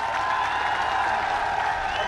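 Crowd at a Congress political rally in the Dausa Lok Sabha constituency claps steadily, a continuous wash of many hands with a faint murmur of voices, no pauses.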